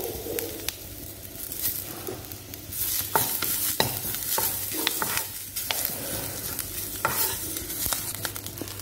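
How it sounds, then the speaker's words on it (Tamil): Curry leaves crackle and sizzle in hot oil for vatha kuzhambu, a lively frying hiss with sharp pops and stirring scrapes, fairly close and without speech. "அடுத்தது நம்ம எடுத்து வச்ச கருவேப்பிலை எல்லாம் நம்ம கொட்டி நம்ம நல்லா வறுத்துக்கலாம்"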